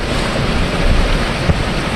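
Ocean waves in extreme weather wash around a flexible floating EZ Dock. A dense, steady roar of surf and wind fills the sound, loud and close, with one brief thump near the end.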